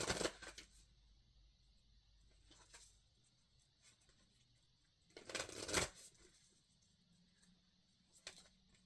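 A Moonology oracle card deck is shuffled in several short, crisp riffling bursts separated by quiet pauses, the loudest near the middle, with no voices.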